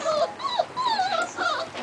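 Spinone puppies whimper and whine up close in a continuous high, wavering chorus of overlapping cries, with a louder squeak at the very end and no speech.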